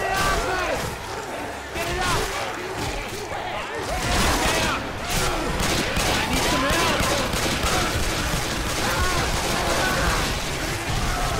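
Rapid gunfire in the Left 4 Dead 2 zombie shooter on a Helms Deep–style mod map, dense overlapping shots and bursts running steadily throughout, loud and close, with players talking over it.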